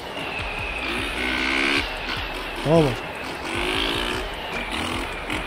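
A Biz 125 motorcycle in the video game MX Bikes revs repeatedly, its rising and falling engine pitch surging in waves, with someone talking over it.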